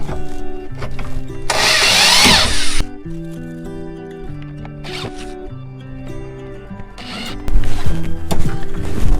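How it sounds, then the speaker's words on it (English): A power drill whirs loudly in several bursts, spinning up and stopping as it drives screws into a sliding rack bracket in a cabinet, over a steady musical background. "you can go ahead and drill the bracket right in"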